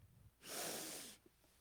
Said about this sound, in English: Sniff in again.